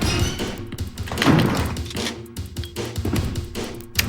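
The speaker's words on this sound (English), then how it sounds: "We're just going to reload here." Weapon being reloaded in Resident Evil, a series of mechanical thunks and clicks over a busy game soundscape, moderately loud and close.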